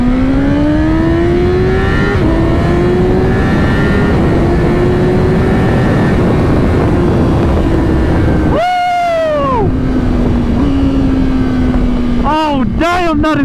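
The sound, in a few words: 1000cc sport motorcycle with stock exhaust accelerating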